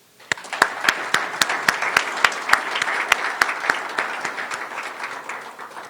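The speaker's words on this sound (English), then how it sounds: "Please help me give them a round of applause" A room of listeners breaks into applause at a diplomatic gathering, a few distinct sharp claps first, then dense clapping that swells and slowly tapers off.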